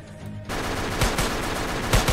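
Rapid gunfire from a gun in a Roblox video game, a loud burst of sharp shots with heavier bangs standing out near the middle and end of the short clip.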